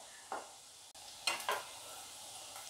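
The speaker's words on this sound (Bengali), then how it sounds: "আর 1 মিনিট ভাজা হলেই তুলে নেবো এগুলো" Potato and onion pakora fry in hot oil, a steady soft sizzle broken by a few brief stirring scrapes, close by, with no talking.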